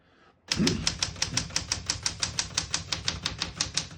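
A 1975 Smith-Corona Galaxie Twelve vintage portable typewriter is typed on in single-spacing mode, giving a steady, evenly paced run of crisp, close key strikes, roughly five per second, with no voices over them.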